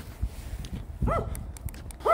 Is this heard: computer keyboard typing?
no